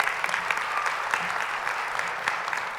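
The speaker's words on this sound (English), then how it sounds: "So how about a round of applause for our faculty and our staff?" Audience applause for faculty and staff at a nursing pinning ceremony, a steady dense wash of many hands clapping at moderate level, continuous for the whole stretch with no talk over it.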